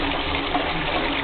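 Water rushes steadily through a toilet as it flushes with a beer bottle inside, a dense, even gushing sound, close and moderately loud, with no talk.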